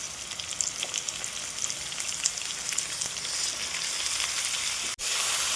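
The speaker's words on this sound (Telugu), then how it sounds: "ఈ మెంతికూర నూనెలో బాగా వేగాలండి" Fenugreek leaves sizzle and crackle steadily in hot oil in a pan for a Telugu fenugreek-tomato curry, a close, continuous frying hiss with small pops, briefly dropping out near the end.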